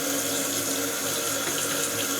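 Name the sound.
toilet flushing and refilling with water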